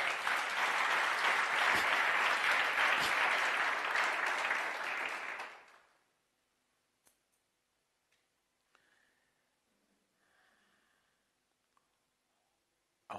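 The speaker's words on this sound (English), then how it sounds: "Somebody clap for Jesus." A church congregation applauds loudly and steadily for about six seconds at a men's and women's meeting, then the sound cuts off, leaving near silence with a few faint ticks and small noises.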